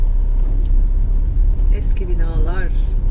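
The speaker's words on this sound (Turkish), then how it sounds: "bol trafik" City traffic in central Isparta, Turkey: a steady low rumble of passing cars and engines from inside a moving vehicle, with a voice briefly speaking over it.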